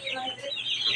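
Many chicks peep together in a shrill, overlapping chorus around a hatchery setup, with a voice speaking over them.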